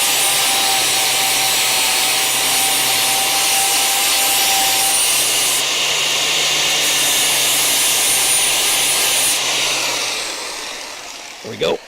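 A wire brush scrubs the metal of a leaf spring perch on a Crew Cab Charger: a loud, continuous, close abrasive rasp with a steady hum, ending in a couple of knocks.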